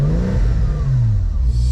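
A Porsche 986 Boxster's flat-six gets a light blip of the throttle up to about 3,000 RPM, rising and settling again in a smooth, steady, close engine note with no voices.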